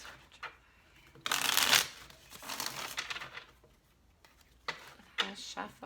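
Tarot cards riffled and shuffled by hand in several bursts, a loud crisp flutter near the start followed by softer slides and taps, close up in a quiet room.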